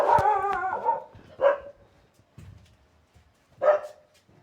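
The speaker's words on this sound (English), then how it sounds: "the dog is barking" A dog barks indoors: a run of quick yips and bow-wows at the start, then separate single barks spaced out, moderately close, with no talk over them.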